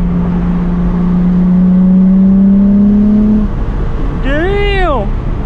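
A Nissan R32 GTR with an RB engine and an equal length front pipe revs, a loud rising and falling engine note coming up near the end after a steady low drone.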